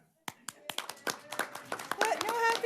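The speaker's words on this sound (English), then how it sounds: "motivated to sing happy birthday to Garrett, we're just going to applaud." A council meeting audience breaks into applause for a birthday, a burst of many hands clapping that starts abruptly and builds into dense, steady clapping, with faint voices mixed in toward the end.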